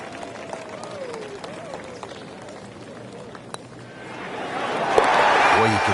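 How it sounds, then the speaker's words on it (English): Golf spectators roar after an eagle holed from a 9-footer, a broad swell of cheering and applause that builds in the last couple of seconds, preceded by quieter murmuring, with a commentator talking over it. "Crowd goes wild after that eagle"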